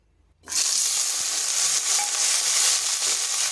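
Thin, long strips of a medium potato dropped into hot oil in a kadai, silence breaking into a sudden loud, steady sizzle that holds close and constant after the vegetables hit the pan.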